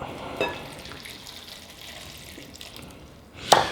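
Water is poured into waffle batter mix with lemon juice, a soft steady trickle with a brief splash near the start and a louder spatter at the end.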